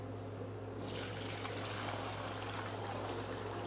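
Water pours steadily into a container at a juice bar, a continuous close splashing stream starting about a second in and running to the end, with no talk.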